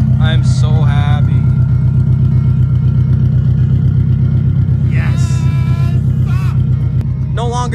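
A Subaru WRX bugeye with a swapped 2.5 engine idles smoothly and loudly, a steady deep rumble close to the mic, while voices talk excitedly over it at intervals.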